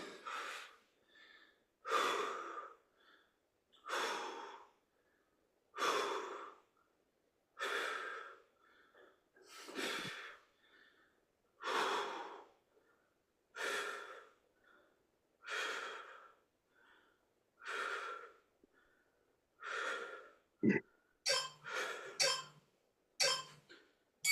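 Heavy rhythmic breathing after a HIIT exercise session, about a dozen loud paced breaths in and out with short pauses between them, ending in quicker, sharper gasps.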